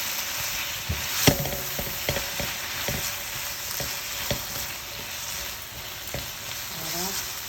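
Marinated chicken and eggs fry in a pan with a constant loud sizzle, broken by scattered scraping and tapping as the food is stirred and broken up.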